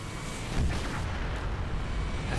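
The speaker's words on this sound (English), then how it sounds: "the Covenant are engaging the UNSC at range. There's a frigate getting blown up." Distant booming explosions and cannon fire from a space battle in Halo Reach, with Covenant ships engaging UNSC forces and a frigate being destroyed; a dense, rumbling wash of blasts that swells after a moment and continues steadily.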